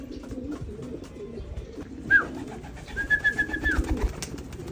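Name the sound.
pigeons cooing during free fly recall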